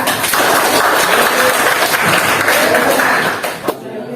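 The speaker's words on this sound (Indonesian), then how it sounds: "tepuk tangan semuanya" Students in a classroom applaud together in a dense burst of clapping that runs steadily for about three seconds, then stops abruptly.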